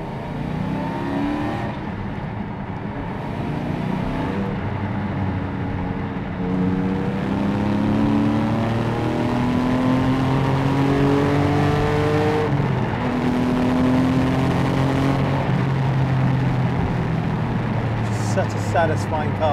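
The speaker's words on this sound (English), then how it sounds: "that naturally aspirated sound from the 4-liter boxer engine" A Porsche 718 GT4's naturally aspirated 4-liter boxer engine revs hard through rising gear pulls during a test drive, loud from inside the car, its pitch climbing, dropping at shifts and climbing again.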